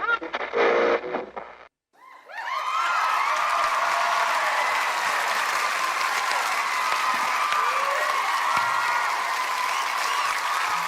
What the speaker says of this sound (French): Dexter, merci de l'applaudir encore.